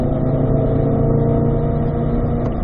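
Chevrolet C8 Corvette accelerating in fifth gear: a steady, loud engine drone with dense low harmonics held evenly throughout, close and continuous with no talk.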